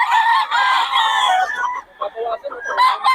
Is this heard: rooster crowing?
yes